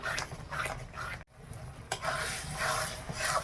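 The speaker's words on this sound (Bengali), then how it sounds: "এবার আমি ভালো করে মশলাটা কষিয়ে নেই।" Spice masala sizzles and crackles in a pan as it is stirred, in bursts of scraping that stop briefly for a moment before picking up again, close and moderately loud.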